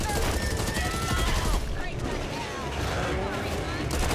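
Rapid video game gunfire in a cooperative zombie shooter, bursts of automatic shots running dense and loud throughout with overlapping chatter and effects.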